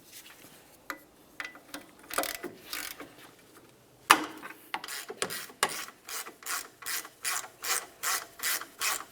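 A ratchet working loose the two 18mm brake caliper bracket bolts on a 2000-2006 Chevrolet Tahoe rear brake, sharp close clicking that starts in scattered strokes and settles into a steady, even ratcheting rhythm.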